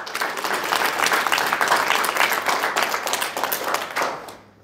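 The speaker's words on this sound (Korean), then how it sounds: "다시 한번 박수 부탁합니다." A lecture audience applauding at a political talk in Gwangju, a dense, lively burst of clapping from many hands that holds strong and then tapers off quickly at the close.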